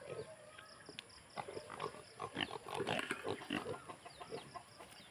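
A big pig grunts repeatedly at close range, with short, uneven bursts of rough snorting and some farmyard background noise.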